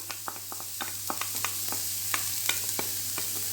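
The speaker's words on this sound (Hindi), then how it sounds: "प्याज आपने ज़्यादा देर नहीं भूनने हैं, सिर्फ 2 मिनट इसको भूनेंगे" Chopped onions sautéing briefly in hot oil, kept from browning, giving sparse sharp crackles and pops scattered over a steady soft hiss, close by with no talking.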